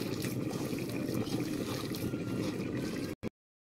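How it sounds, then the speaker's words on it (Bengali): Fresh field greens being mixed by hand with small splashes of water added bit by bit, a steady wet squelching and dribbling that runs close and continuous for about three seconds before cutting out. "সুন্দর অল্প অল্প জল দিয়ে দিয়ে মেখে নাও।"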